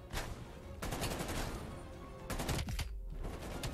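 Fast bursts of shotgun fire in Call of Duty: Black Ops Cold War crack out in quick succession, with a brief pause between volleys, sounding somewhat distant and muffled.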